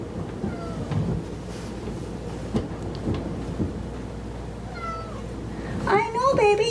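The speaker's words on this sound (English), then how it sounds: "Cats." A cat meows a few times against a steady low background rumble, the meows rising and wavering near the end.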